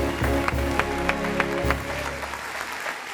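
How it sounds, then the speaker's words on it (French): Studio audience on a French TV debate set claps warmly for the guests, an even wash of applause that fades off toward the end. "On va encore applaudir, s'il vous plaît, pour mes invités."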